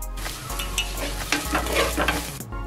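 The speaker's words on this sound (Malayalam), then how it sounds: "ഇനി അതിലേക്ക് കാൽ ടീസ്പൂൺ മഞ്ഞൾപ്പൊടി ചേർത്തിട്ട് ഒന്നുകൂടെ വഴറ്റി കൊടുക്കാം." Shallots and turmeric powder sautéing in a pan for a murrel fish curry, with steady sizzling and repeated spoon strokes scraping the pan, close and continuous, no talking.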